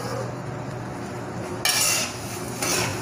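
A spoon scrapes and rustles puffed rice (murmura) around a pan as it is stirred and lightly roasted, with soft continuous rattling and two louder scraping bursts near the end.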